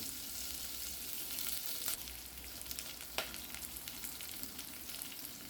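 Large pieces of onion sizzle softly in a pan for tomato chutney, a steady low frying hiss broken by a couple of sharp stirring clicks.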